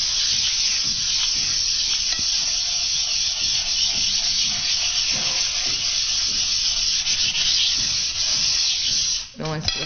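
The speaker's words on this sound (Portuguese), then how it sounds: "Lixa o prato bem lixadinho, tanto dentro quanto fora, embaixo, tudo." Coarse sandpaper rubs steadily over a ceramic plate in a continuous, close, gritty scraping hiss lasting several seconds, ending with a brief clunk.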